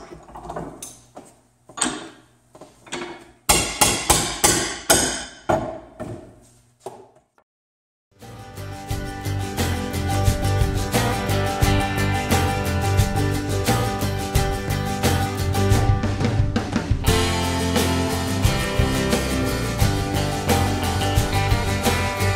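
A hammer strikes a nail clamped in a vise to pull it from pallet wood stringers: a run of sharp, loud, evenly spaced metallic blows, followed by a long stretch of steady background music.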